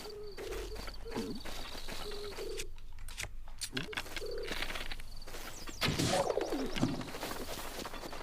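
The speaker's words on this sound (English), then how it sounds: "Yeah, you can actually kill birds." Several soft, repeated coos from birds in Zelda: Breath of the Wild on the Switch, sounding at a moderate distance amid ambient game sound and other bird calls, with no speech over them.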